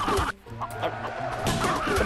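A rooster clucks repeatedly in short, close, fairly loud bursts, with a busy background of other farmyard noise.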